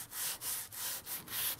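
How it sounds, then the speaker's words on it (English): Wood for an indoor model airplane being hand sanded with a rolling motion, heard close up as soft rhythmic scratchy rubbing strokes with brief pauses between them, about five passes, quiet and alone. "then you start to do this rolling motion as you're sanding"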